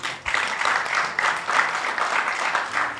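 A church congregation applauding during a sermon, with moderately loud clapping swelling in several pulsing waves over a few seconds.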